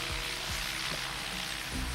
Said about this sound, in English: What about that helicopter?